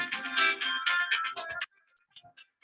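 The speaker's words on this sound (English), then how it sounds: "Mike, That was Mike's phone" A mobile phone ringtone plays a bright, busy melody for about a second and a half in a meeting setting, then cuts off abruptly, leaving only faint scattered noises.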